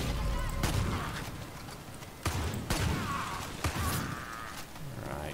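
MG42 machine gun fire in Far Cry 5 Arcade: several heavy, booming bursts spaced a second or so apart, close and punchy over a steady game background with no talk.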